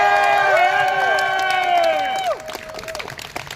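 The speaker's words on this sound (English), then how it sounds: "Can I hear another round of applause for Emmett?" Crowd at a Transgender Day of Visibility rally in Texas cheering and applauding, loud and close at first with sustained tonal whoops over dense clapping, then thinning to scattered claps and voices.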